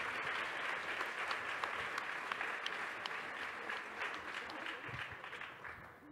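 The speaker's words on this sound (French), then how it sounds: "On peut les applaudir." Conference audience clapping for speakers at a talk on rights of nature, a continuous patter of many hands that thins and fades slightly toward the end.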